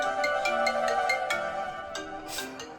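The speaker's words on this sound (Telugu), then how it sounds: "నేను రింగ్ టోన్లో వెళ్ళి ఇది నొక్కుతున్నాను." A phone ringtone chimes in a bright, repeating melodic pattern of short notes, clear and close, with nothing else over it.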